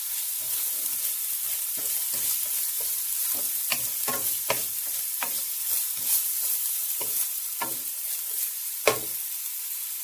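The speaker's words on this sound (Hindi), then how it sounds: "और इसमें हम डालेंगे ऑनियन चॉप किया हुआ, जस्ट 1 ऑनियन।" One chopped onion sizzling and frying in a pan for chicken parmesan, with a steady hiss and repeated scraping stirs of a spatula, fairly close and without talk.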